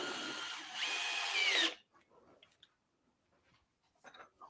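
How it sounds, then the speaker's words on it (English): A DeWalt DCD701 12V drill whirs loudly and steadily for under two seconds, revving up once before stopping, followed by faint clicks and handling noises. "No, this is just a drill. Oh. This is the DCD 701."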